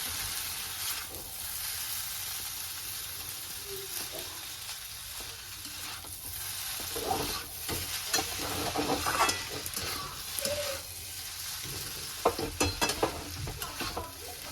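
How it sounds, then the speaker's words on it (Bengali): Steady frying sizzle of chow mein noodles in a hot pan, with scraping stir strokes and clatter growing busier toward the end; no one speaks. "চাউমিনটা হয়ে গেছে একটু ভাজা ভাজা"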